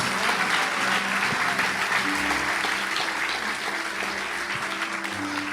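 A church congregation applauds together in sustained, even clapping that fills the room, with a low hum and faint voices mixed in beneath the claps.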